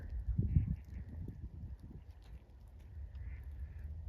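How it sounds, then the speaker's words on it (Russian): Faint ducks quack in the distance, a few nasal calls over low rumbling background noise. "О, утки, утки, слышишь?"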